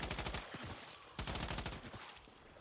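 Guns firing in a video game, rapid bursts of automatic gunfire with crackling shots in quick succession, two main bursts at moderate level.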